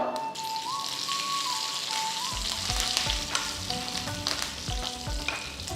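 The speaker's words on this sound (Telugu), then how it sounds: "ఆవాలు చిటపడలాడుతుంది ఇప్పుడు నేను కొంచెం కరివేపాకు కూడా వేసేస్తున్నాను" Mustard seeds and cumin crackle in hot oil as curry leaves drop into the pan, setting off a loud, dense sizzle with rapid popping close up. The sound is steady and continuous, and no one speaks.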